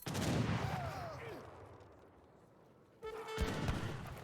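Wakina rifle gunfire crackles in an Age of Empires 3 battle, a cluster of sharp shots early on, then a quieter stretch before another burst of firing.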